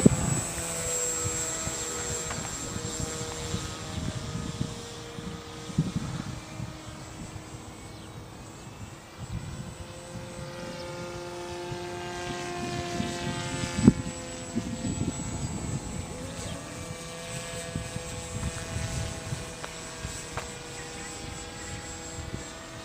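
A modified Peace Drone flies at half throttle, giving a steady propeller buzz with a droning tone that rises and falls slightly as it banks through turbulent air, heard at moderate distance.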